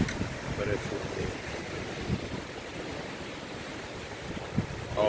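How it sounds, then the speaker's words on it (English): Strong wind at an RV campsite buffets the microphone with a constant rough roar, with faint surf-like rushing and a few brief muffled sounds underneath. "I don't know if you can tell how windy it is"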